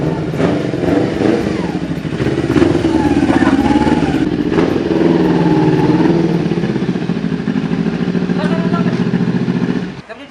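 A motorcycle engine runs close by, a steady rough mid-pitched rumble with slight revving and clatter that holds for about ten seconds before cutting off, while people talk over it.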